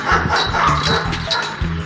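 A dog barks repeatedly in quick succession, loud and close, over a noisy background.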